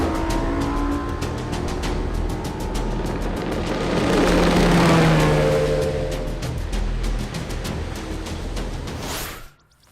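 A powerful outboard motor on a 2016 NITRO Z20 bass boat roars steadily at high speed on the water, swelling louder midway with rushing wind and water, then cutting off abruptly at the end.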